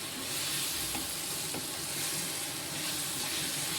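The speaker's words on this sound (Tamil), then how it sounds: "இந்த எண்ணெயிலே வந்து நம்ம இதை வதக்கி கொஞ்சம் அடுப்பை குறைச்சி வச்சுக்கிட்டே நல்லா எண்ணெய் தெளிஞ்சு வர்ற அளவுக்கு நம்ம வதக்கணும்" Mango pieces sautéing in oil over lowered heat for a pickle, giving a steady, dense sizzle with soft stirring scrapes throughout and no voices.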